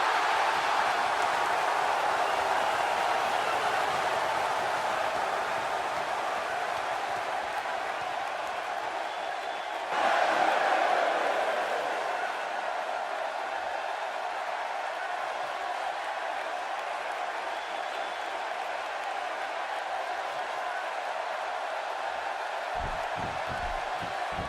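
A packed wrestling arena crowd in the WWE 2K16 video game keeps up a steady, distant roar for the whole stretch, swelling briefly near the middle before settling back into a dense murmur.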